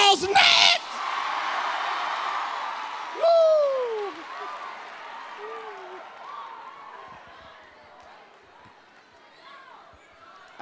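A church congregation cheers and applauds in a large hall, a loud burst that fades into a sustained crowd murmur, with someone shouting and calling out over it.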